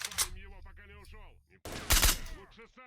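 A gunshot fired in S.T.A.L.K.E.R.: Shadow of Chernobyl, a single loud sharp crack bursting out after a man's speech, followed by a short decaying tail.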